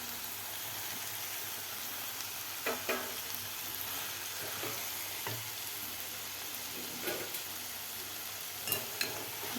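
Potato, cauliflower and peas sauté in masala for aloo gobi matar with a constant bright sizzle, occasional soft spatula scrapes and clinks at intervals, close up and steady, with no voices.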